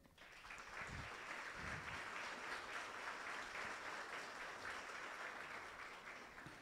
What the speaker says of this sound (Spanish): para quien solicitamos un fuerte aplauso